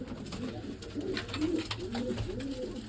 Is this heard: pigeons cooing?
yes